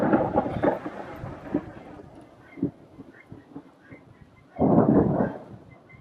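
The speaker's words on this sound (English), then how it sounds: "I love when we have like a nice sunny day, and then we just get like a nice thunderstorm." Thunder from a thunderstorm on a sunny day, low rumbling bursts that swell and fade, with a loud rolling peak near the end and quieter crackles between.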